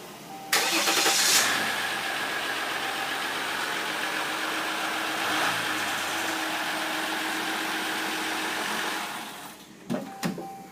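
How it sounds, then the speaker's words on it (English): A Ram EcoDiesel truck's engine is cranked after a fuel filter change, catches and runs at a loud, steady idle, close by, with no voices and a few brief knocks at the end. "With the fuel system reprimed, we'll crank up the truck."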